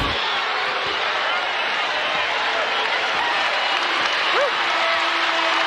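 Crowd at an Indiana vs Oklahoma women's college basketball game cheering in a large arena, a dense continuous roar with a referee's whistle faintly audible near the end.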